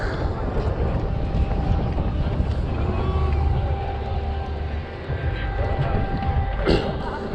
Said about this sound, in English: it's a lot windier than I thought